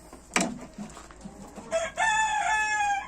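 Chickens and roosters returning to their coop before rain, with a loud close rooster crow ringing out over the last half after a few short clucks and squawks.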